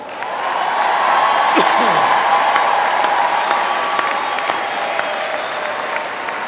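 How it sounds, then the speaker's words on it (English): A graduation audience at a university nursing ceremony applauds, a dense, loud, continuous wash of clapping that swells quickly and holds steady, with a few scattered whoops and a sustained tone beneath. "give them a well-deserved round of applause"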